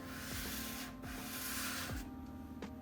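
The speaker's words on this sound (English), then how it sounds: "So we're gonna take our sanding block and just lightly scuff up this board." Steady, light scuffing of a sanding block rubbing back and forth across a wooden board, a continuous gritty rasp with soft repeated strokes.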